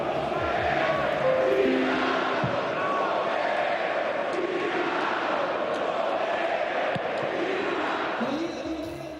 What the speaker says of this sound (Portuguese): tiveram cantos homofóbicos da torcida do Corinthians direcionados ao Ángel Romero